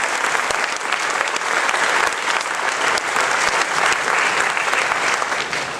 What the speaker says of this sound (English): So a huge round of applause for all those folks.